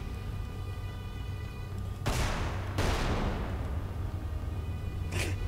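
Spell shots firing in the fantasy video game Magicka, heard as a loud hissing, crackling burst of blasts that swells, cuts off, then resumes, with a short sharp flare near the end.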